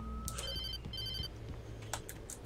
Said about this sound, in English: Answering the phone. Take a phone call.